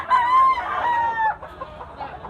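A big bullstag gamecock crows once, loud and close, in a drawn-out call, then gives a few short clucking sounds, in Tabunok, Cebu.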